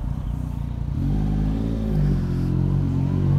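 A Yamaha MT-09 motorcycle engine hums and rises in pitch on a test ride in traffic, a steady close mid-range drone that swells after the first second and keeps building.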